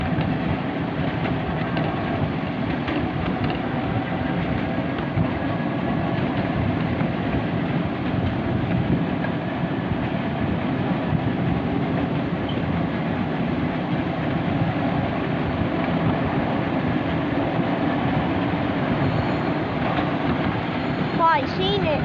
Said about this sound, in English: this beautiful miniature railway.